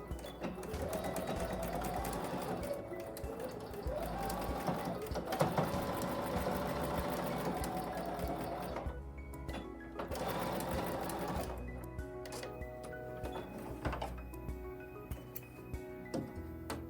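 A sewing machine runs steadily while stitching a bag seam, its motor whirring in long bursts with brief pauses between runs, close and fairly loud, with no talk over it.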